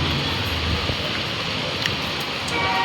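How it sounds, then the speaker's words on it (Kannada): Evening rain beginning to fall, a steady soft hiss of drops that holds evenly throughout with no voices. "ನೋಡಿ, ಮಳೆ ಸ್ಟಾರ್ಟ್ ಆಯಿತು."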